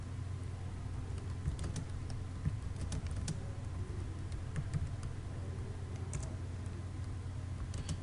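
Text is typed on a computer keyboard while working in CorelDRAW 2017, with faint, irregular key clicks scattered over a steady low background hum.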